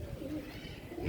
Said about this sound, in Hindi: ये ओरिजिनल कबूतर है